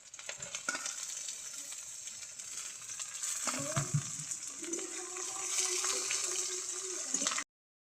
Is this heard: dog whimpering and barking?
no